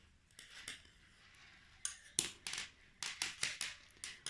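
Scissors cut knitting yarn in half, giving a few faint crisp snips and clicks, quiet and close, separated by brief pauses with handling sounds.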